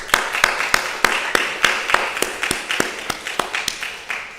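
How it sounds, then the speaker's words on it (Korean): Churchgoers at a neighbour-invitation gathering clap to welcome guests, a steady rhythmic run of sharp, evenly spaced claps in unison, close and moderately loud with no talking over it. "우리 한번 박수 한번 하십시오."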